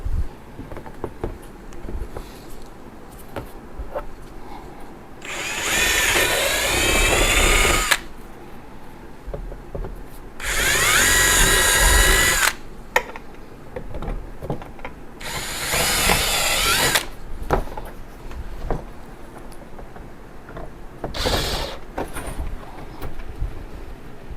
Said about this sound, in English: So we'll go ahead and drill those now.